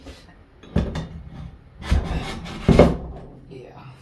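A WEN 10-inch drill press head is set onto its column, giving a few heavy metallic clunks and scraping rubs spaced across a few seconds, close and moderately loud.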